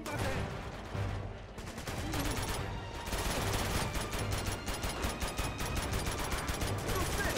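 Rapid automatic fire from an AK rifle in the video game Uncharted 2 rattles out in dense, continuous bursts, with short gaps between volleys across the whole stretch.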